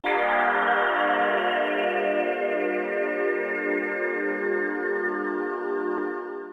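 PlayStation 2 BIOS startup sound called Hi-Pad, a single sustained, shimmering electronic pad chord that swells in at once and slowly fades over several seconds, heard alone.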